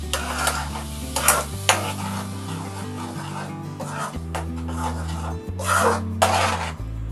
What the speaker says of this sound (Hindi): इसको साथ साथ मैं हिलाती जाऊंगी।